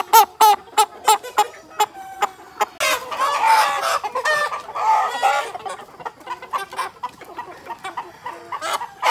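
Farm chickens cluck in a busy poultry shed, with sharp repeated clucks and calls overlapping close by, some louder bursts standing out from a steady background of birds.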